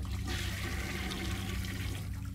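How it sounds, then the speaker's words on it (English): Toilet flushing in the horror video game City of Nightmares: one loud, continuous rushing of water that fills the whole moment, close and dominant, with no speech. "why would I have to flush all these toilets?"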